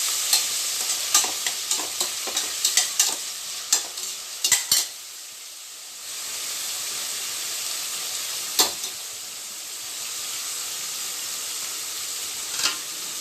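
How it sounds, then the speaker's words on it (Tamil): Tomatoes, chilies, coriander and mint sizzle and fry in a hot pan while a utensil repeatedly stirs and scrapes, sharp clinks scattered over a steady hiss. "தக்காளி, மிளகாய், மல்லி, புதினா போட்டு நல்லா வதக்கிக்கோங்க."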